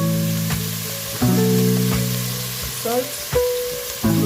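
Garlic fries in a pan with kale, a steady close sizzle marked by a few sharp clinks and scrapes of a utensil against the pan.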